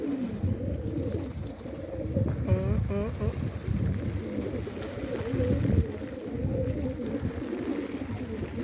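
Pigeons coo in repeated soft, throaty calls against a busy background of rustling and murmuring voices, with faint chirps now and then.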